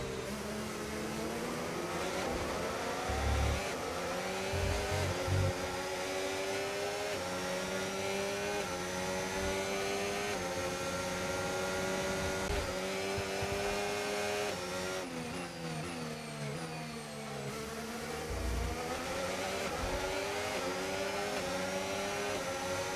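F1 25 race cars roar around a track in career mode, with steady, loud engine whine rising and falling through gear shifts and revs, continuous throughout with occasional low thumps.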